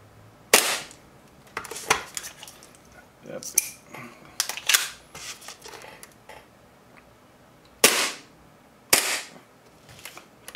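A Nineball NEO aluminium Hi-Capa airsoft pistol fires BBs in a few sharp, close snapping cracks, spaced irregularly, with voices talking between shots.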